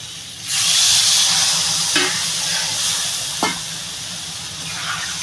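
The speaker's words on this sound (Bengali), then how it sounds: "আমি এবার পরিমাণ মতো জল দিয়ে দেবো।" Water poured into a pan of fried taro sets off a sudden loud sizzle and steady hiss, with a couple of sharp clinks or pops as it keeps bubbling close by.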